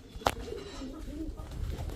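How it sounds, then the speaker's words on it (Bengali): Pakistani pigeons coo softly nearby, low burbling calls running under a sharp brief knock at the start. "3 জোড়া পাকিস্তানি কবুতর"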